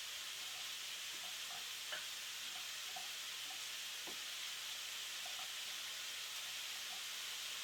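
Brussels sprouts sizzle in a hot pan as they're stirred, a faint, even frying hiss running throughout with a few light, scattered spoon taps, no voices.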